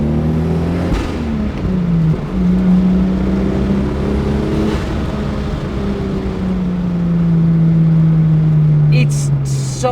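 A JDM sports car engine drones steadily while driving, its pitch rising and falling with revs across the whole stretch, loud and close with a brief higher whine near the end.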